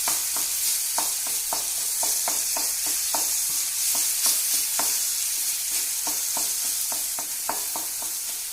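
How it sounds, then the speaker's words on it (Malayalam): Ripe bananas are mashed for a banana cake with a steady series of soft, squishy presses and taps, close and irregular, over a constant hiss. "പഴം ഒന്ന് ഇങ്ങനെ ഒന്ന് ഉടച്ചൊക്കെ ഒന്ന് എടുക്കാം."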